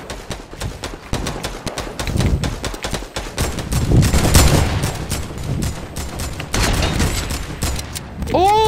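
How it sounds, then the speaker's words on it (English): Rapid gunfire in Fortnite, sharp cracking shots in quick irregular bursts, some close and loud, others trailing off, scattered through a noisy in-game fight. "Getting shot from south."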